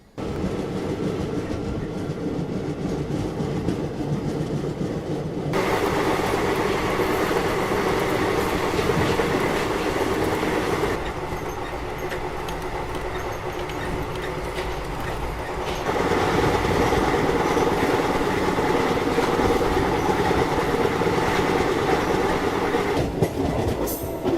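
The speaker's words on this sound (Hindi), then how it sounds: "जैसे ही बाहर आया वैसे ही ट्रेन का डिपार्चर जो है वो हो गया" An Indian Railways train departs and runs on the rails toward Bhusawal, heard from on board as a constant loud rumble with rhythmic clickety-clack and shifting wheel noise, with no speech.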